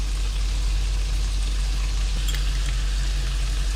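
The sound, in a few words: prawns frying in pan with soy sauce, sugar and chili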